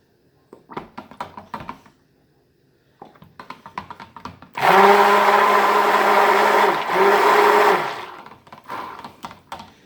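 A blender whirs loudly and steadily for about four seconds while mixing a pumpkin peppermint soap batter, with scattered clicks and taps before and after the run.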